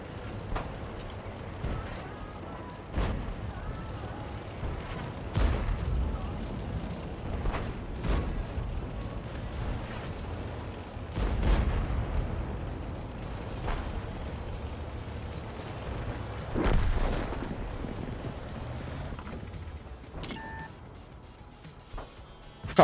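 Tank cannon shells firing in a video game with standard rounds, a series of heavy booming shots spaced several seconds apart over a steady rumbling engine drone.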